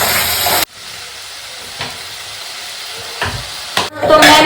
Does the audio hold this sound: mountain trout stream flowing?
no